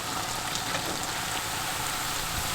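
Cake batter fries in hot oil in a pan, a dense, even crackling sizzle like light rain that holds steady for a few seconds.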